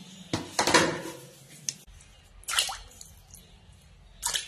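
Cut pieces of local tilapia are washed by hand in water, giving wet squishing and splashing in a few separate bursts with short quiet gaps between them.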